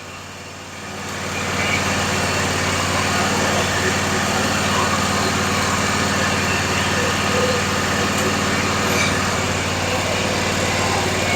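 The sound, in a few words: Toro Z580 zero-turn mower engine running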